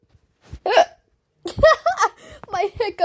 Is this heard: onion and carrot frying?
no